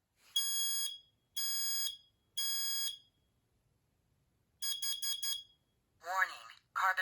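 Kidde 30CUAR-V combination smoke and carbon monoxide alarm sounds three loud, shrill beep bursts, then a quick run of shorter beeps, followed by its recorded voice warning. The alarm is close and plays alone.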